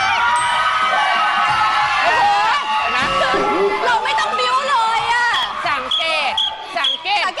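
A studio audience shrieks and screams excitedly at a singer's appearance in a continuous loud wave, with high-pitched squeals and cheering overlapping throughout.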